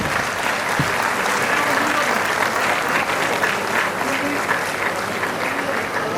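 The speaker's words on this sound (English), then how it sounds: "And a huge round of applause for them, please." Loud, sustained audience applause at a college prize distribution ceremony as a team comes on stage, a thick continuous clapping with crowd murmur mixed in.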